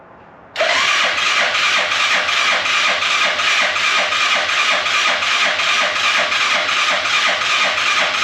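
An Arctic Cat Prowler engine cranking as it draws fuel: after a brief quiet start, a loud, steady, rapid mechanical churning begins and continues evenly to the end, close up with no voices.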